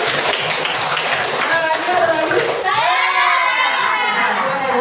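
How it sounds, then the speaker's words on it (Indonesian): Children clap in a school classroom during an Islamic religious education lesson, dense and loud at first, then giving way to excited children's voices and shouting. "Beri tepuk tangan."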